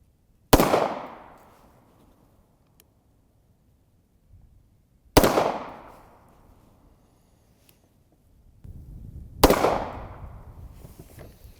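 Three sharp, loud pistol shots from a Hi-Point handgun at an outdoor range, spaced about four to five seconds apart, each a close crack followed by a short decaying echo, with faint shuffling between them.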